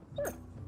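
Mutt, a dog in the game Kingdom Come: Deliverance II, gives one brief, faint, high whimper over a quiet, low background.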